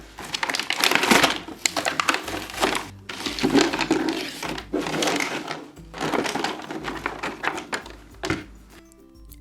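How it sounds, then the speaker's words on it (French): Packaging being torn, crumpled and handled while a Play-Doh Trolls Poppy hair salon kit is unboxed on a table, with loud bursts of crinkling and tapping broken by short pauses. "On va d'abord déballer ce coffret."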